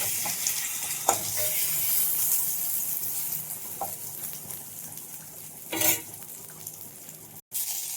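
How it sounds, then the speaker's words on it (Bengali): An egg fries in leftover oil in a pan after potatoes, making a moderate, continuous sizzle with occasional sharp clicks and a short louder burst toward the end. "তো ওই তেলেই ডিমটা ভেজে নেবো।"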